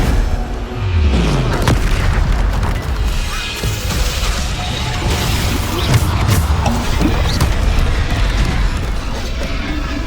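Bombarda blasting spells in Hogwarts Legacy burst as loud repeated booms and crashes, mixed with other spell effects and game action in a dense, continuous barrage.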